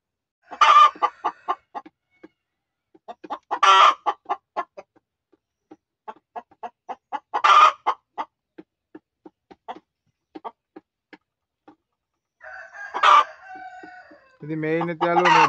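On a village chicken farm with egg-laying hens, a rooster crows loudly and close by in repeated bursts a few seconds apart, with sharp clucks scattered between the crows.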